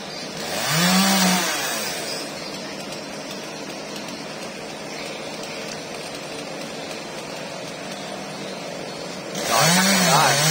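A chainsaw cuts tree branches, running continuously, revving up at the start and again near the end, with a steady cutting drone in between.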